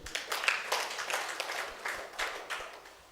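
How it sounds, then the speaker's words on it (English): A meeting audience claps for a raffle winner, a sparse, uneven patter of hands in a large room, moderately faint, rising and falling over a few seconds. "Let's clap for him"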